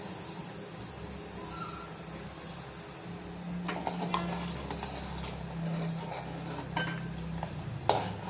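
A spoon stirs sugar into lotus seed payasam in a pan, faint scraping and clinking against the metal over a low kitchen hum, with a few sharper taps near the end and no talk.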